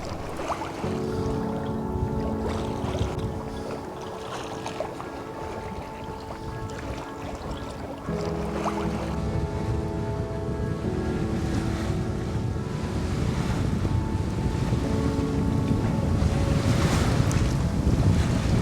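Steady wind rushes over the microphone while water splashes and hisses along a sailboat's hull as it sails upwind off northeast Sardinia toward the Maddalena Archipelago, growing slightly louder toward the end; no one speaks.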